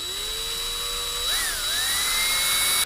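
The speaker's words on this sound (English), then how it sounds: "I'm going to drill it very carefully and just poke through" Power drill boring carefully into the jet port of a Yard Machines snowblower carburetor: a short, high-pitched whine that wavers and rises in pitch midway, then cuts off abruptly.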